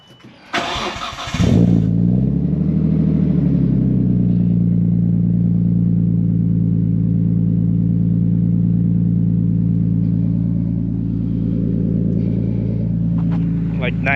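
A Nissan Skyline cold start: a starter crank and catch around the first second and a half, then a loud, steady, deep idle that holds for the rest of the clip, with faint background voices near the end.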